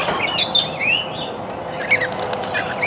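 Rainbow lorikeet bathing in a zoo enclosure, wings fluttering and splashing in a steady rustle while high chirps and squawks from it and nearby lorikeets cut through, close and fairly loud.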